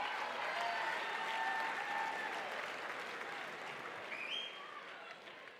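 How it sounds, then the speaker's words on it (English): Audience applause at the Dancing with the Spartanburg Stars 2019 charity dance competition, a broad, steady roar of clapping from a large crowd that gradually fades, with faint whistles and cheers mixed in. "Another round of applause for these two great teams."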